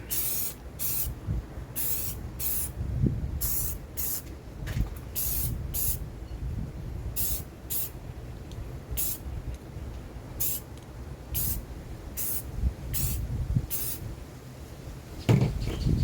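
Short hissing bursts from a spray paint can lay a coat onto a rifle scrim, about twenty quick evenly spaced sprays, loud and close, ending in a louder rattle or knock with no speech.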